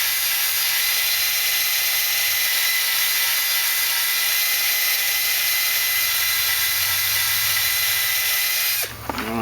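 A grinding tool resurfacing a stainless steel disc brake rotor from a 1968 AMX Bendix setup, a loud, steady high-pitched whine held for several seconds before cutting off abruptly near the end.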